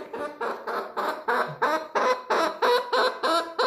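Pet backyard chickens give a run of about eight loud, evenly spaced calls, close by and repeating in a steady rhythm with no talking.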